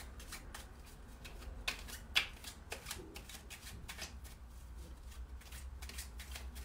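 Tarot or playing cards being shuffled, a run of crisp riffling flutters and soft slaps repeating steadily at close range, fairly quiet with no talk.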